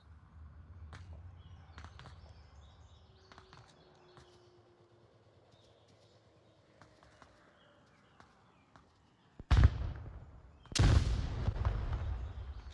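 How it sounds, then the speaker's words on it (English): Grenades go off in the VR shooter Onward during a competitive league match, two loud sharp blasts close together near the end after a stretch of quiet footsteps and faint game ambience. "The nades are coming out."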